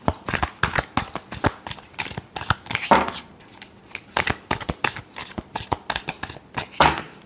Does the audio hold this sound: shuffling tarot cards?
yes